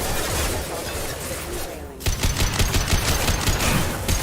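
Rapid automatic weapon fire in Mass Effect 2 Legendary Edition, dense continuous shooting with a brief lull, then a renewed rattling stream of close, loud shots.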